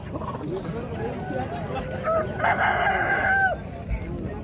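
A rooster crows nearby midway through, amid a busy market hubbub of voices and other fowl.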